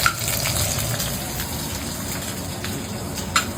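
Whole green chillies and onion crackling in hot mustard oil tempered with black cumin in a kadai, a continuous hissing sizzle like rain, with a couple of sharp pops from the pan.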